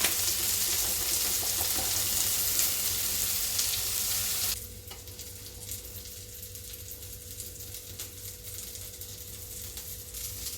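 Potatoes frying in a pan for a home lunch, a strong continuous sizzle for about four seconds before dropping to a quieter, steady crackle that runs on alone.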